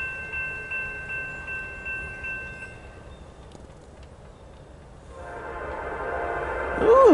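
A Norfolk Southern intermodal freight train, NS 227, rolls through Shenandoah Junction with a deep, steady rumble. A horn sounds from a distance early on, and the rumble swells louder as the cars pass closer near the end.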